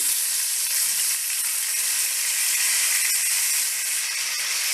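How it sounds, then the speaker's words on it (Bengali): Tomatoes dropped into hot oil over a bay leaf, garam masala and cumin tempering, cooking for Bengali stuffed pointed gourd, produce a strong, steady hissing sizzle, close and continuous with no voices. "এবার টমেটোগুলো দিয়ে দিলাম।"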